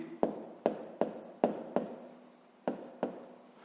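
Pen or chalk writing down a sixth-grade maths answer, about eight crisp, evenly spaced strokes tapping and scratching close up, with quiet room tone between them.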